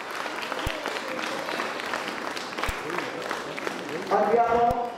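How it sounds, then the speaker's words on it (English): A school annual day audience applauds steadily in a large crowd, a continuous wash of clapping that carries on as a voice begins speaking near the end. "he deserves a huge round of applause as we welcome him."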